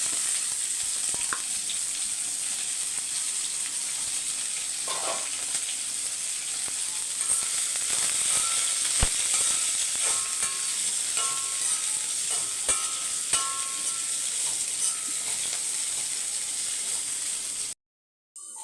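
Steady sizzling and crackling of broad beans with curry leaves frying in hot oil, with occasional stirring clinks, continuous and close, no talk.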